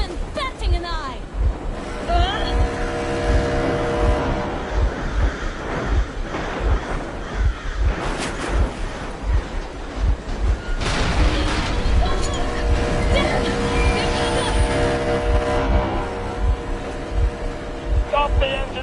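A vehicle engine runs in the Metro Exodus video game, a steady low rumbling hum with regular pulsing throbs that continues throughout, layered with tonal game ambience and a voice.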